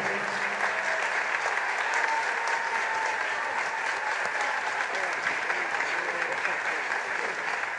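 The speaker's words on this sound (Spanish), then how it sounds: "Fuerte el aplauso para todos ellos y para nuestro homenajeado Cornelio García." Sustained, dense applause from the audience at a 2021 tribute to honoree Cornelio García, a full, even wash of many clapping hands that holds steady the whole time.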